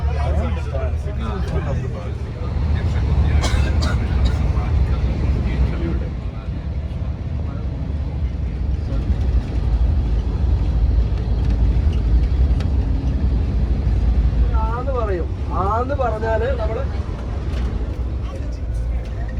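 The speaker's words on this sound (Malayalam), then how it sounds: "ഇനി നമ്മൾ ട്രാവൽ ചെയ്യാൻ പോവാണ് ബസ്സിൽ" Inside a moving bus travelling from Belgium to Paris, a steady low engine and road rumble fills the cabin under ongoing conversation.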